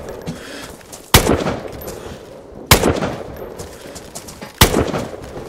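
Three loud, widely spaced gunshots from .308 rifle rounds in a shooter game, each a sharp crack trailing into a rolling echo over low ambient noise.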